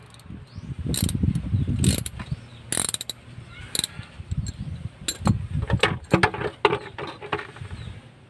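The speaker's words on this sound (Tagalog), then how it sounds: "So buksan na natin gamit itong ratchet." Ratchet wrench clicking while loosening a transmission plug on a Suzuki Multicab 12-valve manual 4x2 F6a, with irregular metallic clicks and clanks, close by and intermittent, amid faint shop noise.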